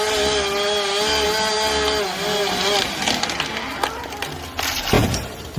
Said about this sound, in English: That chainsaw's cutting through more than wood.